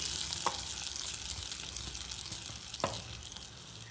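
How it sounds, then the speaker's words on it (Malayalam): Hot tempering with curry leaves sizzles as it goes into a pumpkin pachadi curry, a soft continuous frying hiss with two brief sharper clinks or stirs, fairly quiet and close. "ഇനി നമുക്ക് ഈ താളിച്ച് വെച്ചിരിക്കുന്നത് ഈ കറിയിലേക്ക് ഒഴിച്ചു കൊടുക്കാം."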